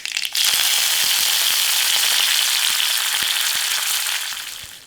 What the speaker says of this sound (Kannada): ಸ್ವಲ್ಪ ಇದು ಕೆಂಪಗಾಗೋವರೆಗೂ ಹುರ್ಕೊಳ್ಳೋಣ